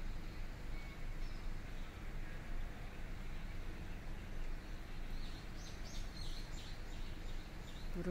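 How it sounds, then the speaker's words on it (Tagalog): Faint birds chirp in short twittering bursts far off, nearly buried under a steady low rumble of wind or distant traffic. "Huni ng ibon."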